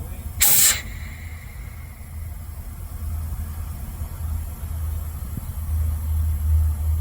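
Air brakes on an MCI MC5a bus release with one loud, short hiss near the start. A low engine rumble then idles steadily underneath.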